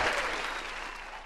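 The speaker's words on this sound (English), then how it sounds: "Another round of applause." Audience applause, a dense bright patter of many hands clapping that fills the short moment and gradually thins out toward the end.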